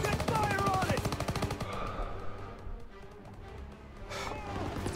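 Rapid machine-gun and rifle fire in the World War II shooter Call of Duty: WWII, dense bursts up front that thin out and then return, with a voice briefly heard over the battle.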